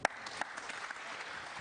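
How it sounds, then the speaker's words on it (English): Warm audience applause for a break at a snooker match at the UK Championship, a soft, steady patter of clapping from a crowd with a couple of sharper claps near the start. "Warm applause though for that break"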